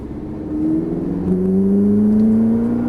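A red Ferrari on a track accelerates from low revs, its engine note climbing steadily as it pulls away, loud and close with a rising whine and no talk.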